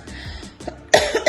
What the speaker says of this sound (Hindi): खांसी तंग कर रही है।